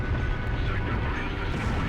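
A bridge blows up in the Mercenaries video game, a loud, dense rumbling blast that fills the moment with heavy crashing debris.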